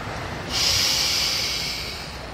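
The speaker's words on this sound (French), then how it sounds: "On va inspirer 4 secondes." A slow, deep inhale drawn through the nose, a close airy hiss that starts abruptly and holds steady for nearly two seconds before easing off.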